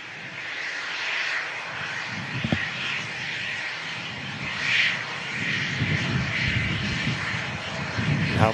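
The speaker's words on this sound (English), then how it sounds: "It's NetJet's aircraft in from Glasgow. Phenom 300." A NetJets Phenom 300 business jet arriving from Glasgow gives a steady, broad engine roar that swells and eases slightly, fairly loud and continuous, with no voices.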